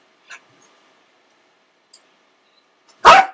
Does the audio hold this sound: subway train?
no